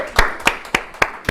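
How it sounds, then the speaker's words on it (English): Four slow, separate claps from someone in a real estate seminar audience, sharp and evenly spaced, with no voices. "let's give Charles a round of applause"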